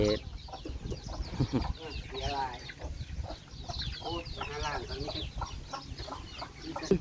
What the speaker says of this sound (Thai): ไก่มันใหญ่สะ